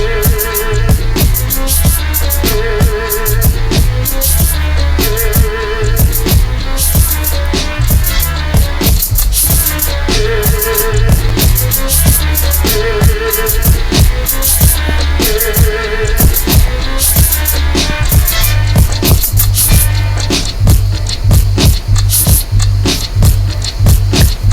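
A looping hip hop beat with steady kick and snare under a repeating melodic sample, loud and continuous throughout.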